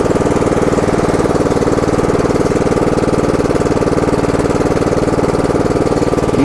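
An Iseki Cutmaster CM7113H ride-on mower engine runs loud and close with the choke off. It gives a steady, rapid, even chugging that holds at one pace and never stops.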